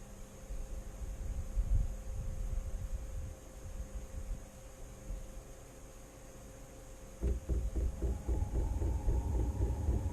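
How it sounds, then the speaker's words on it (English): A steady mechanical whir and low hum of an LFbros diesel heater, then from about seven seconds the fuel pump's faster rhythmic pulsing ticking joins in, fairly quiet and close, with no talking. "That is the loudest you'll hear of the pump."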